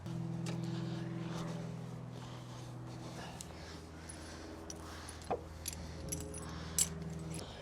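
Small metal bolts for framing tools clink and rattle faintly in a few light, scattered taps over a steady low hum, quiet and close.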